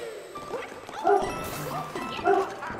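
Dog barks in Super Mario 3D World, two short bright bursts about a second apart over busy game music and effects, with no talk.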